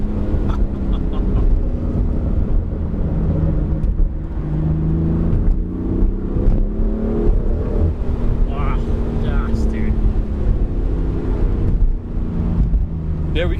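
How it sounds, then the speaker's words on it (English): Tuned BMW F80 M3 with a Stage 1 VF hex tune making about 470 wheel horsepower, heard from inside as it accelerates, engine note climbing steadily through several rising sweeps, with a loud exhaust and a steady drone throughout. "you hear the turbo spool up with the induction sound and then it shifts with that like loud,"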